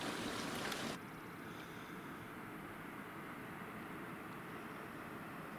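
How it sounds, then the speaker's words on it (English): Water rushing steadily in a mountain stream near Breeze Lake on the Merced Peak loop, a broad continuous wash heard from some distance, with a short louder burst at the start and no voices. "Sounds like quite a bit of water coming in over there."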